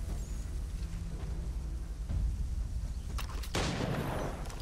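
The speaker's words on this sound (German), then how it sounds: "So, ich muss wohl hier schießen, oder was?" Gunfire in the video game Assassin's Creed III: a low, muffled volley of shots and booms rumbling under game ambience, with a sharper burst near the end.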